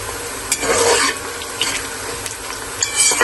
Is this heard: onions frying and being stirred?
yes